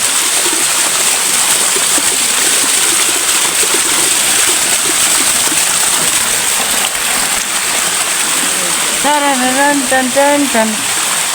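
Rushing water roars steadily and close, a constant broad wash of sound; a voice briefly rises over it near the end.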